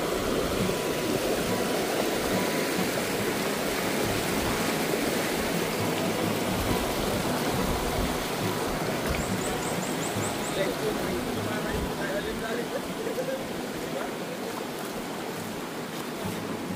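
River water rushing at a river crossing, a loud, steady broadband roar that persists for the whole stretch, with a faint voice barely noticeable underneath.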